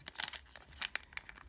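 Plastic backing from a strip of nail polish strips crumpled by hand, a short series of quiet crinkling crackles in irregular bursts, close and alone.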